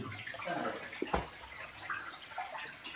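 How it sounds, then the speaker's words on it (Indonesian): Water trickles and gurgles inside a cave-like hermitage site in Tulungagung, a soft, continuous splashing and burbling heard close by with one sharper splash. "Ini airnya gemericik ya."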